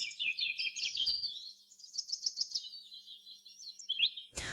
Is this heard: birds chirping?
yes